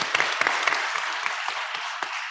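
Audience applause during a cannabis lobby day discussion panel in Ohio: steady clapping from a room of people, fairly close and even, with a few louder individual claps standing out and no talk over it.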